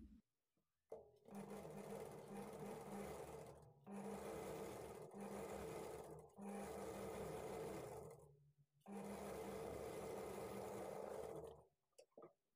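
Electric sewing machine stitching the lining of a blouse sleeve at a half-inch margin, running in long steady whirring bursts with brief stops between them, close and loud with no talking.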